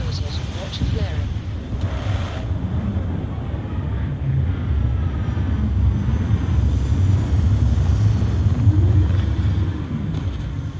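A spaceship lands in the Starfield video game with a steady, loud engine roar and whooshing rumble that holds throughout, swelling slightly toward the end, without any clear speech over it.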